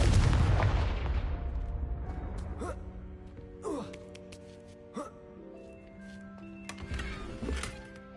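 A fiery Confringo spell blast from Hogwarts Legacy erupts in a loud opening boom that fades, followed by several sharper crackling impacts and swooshes against a sustained tonal game background.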